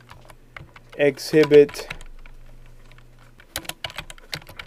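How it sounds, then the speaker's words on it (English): Quick bursts of typing on a computer keyboard at a desk, soft clicky keystrokes clustered near the end, with someone speaking briefly over a low hum. "we'll type out"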